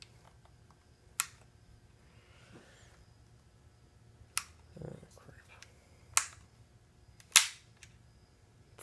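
A muzzleloader kit lock snaps sharply when fired on full cock. Several crisp metallic clicks and cracks are spread out, close and fairly loud, with a softer rustle between them and no talk.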